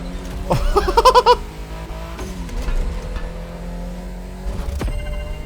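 Toyota Supra in The Crew Motorfest racing game accelerating, a loud engine note climbing through rapid revving pulses early on, then a steady sustained drone with a brief burst near the end.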